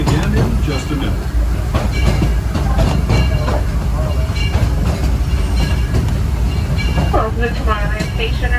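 The Disneyland Railroad train rolls along with continuous loud rumbling and clattering of wheels on track, with a voice talking over the ride.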